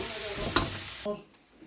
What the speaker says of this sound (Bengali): পেঁয়াজ আমি ভাজা ভাজা করে নিয়েছি